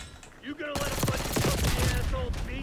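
Rapid gunfire in the Black Ops 6 Zombies video game, a loud dense burst of rattling shots that starts abruptly and runs to the end, with someone talking over it.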